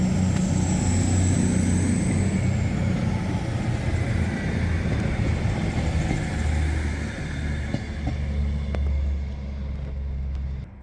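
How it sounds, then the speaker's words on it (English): Class 221 Super Voyager diesel train departing a station, a loud low rumble and engine drone that stays steady and then eases slightly, with a faint high whine fading early on. "There it goes, 221142, my first ever Voyager, formerly Avanti West Coast,"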